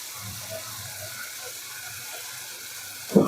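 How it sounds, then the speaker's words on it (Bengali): Bitter gourd (karela) frying in a pan, a soft, steady sizzle with faint crackle, close and low in level, with a brief louder knock at the very end. "এই যে করলা ভাজি হচ্ছে,"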